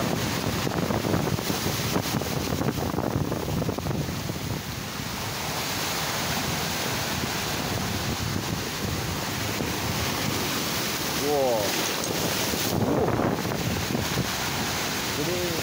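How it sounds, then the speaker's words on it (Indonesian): Big ocean waves crash and surge continuously at night on the beach at Ujung Genteng, South Sukabumi, with loud wind noise blowing across the microphone; a faint bird-like chirp briefly appears. "jadi ini ombaknya lagi besar kayaknya ombaknya lagi besar"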